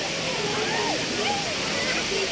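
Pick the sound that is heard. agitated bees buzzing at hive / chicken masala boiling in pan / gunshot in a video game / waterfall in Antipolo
waterfall in Antipolo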